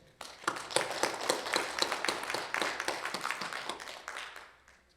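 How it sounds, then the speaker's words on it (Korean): Audience applause at a ceremony marking the 80th anniversary of Korea's founding program, many hands clapping briskly and warmly, swelling quickly and holding steady before tapering off at the end. "뜨거운 박수로 모시겠습니다."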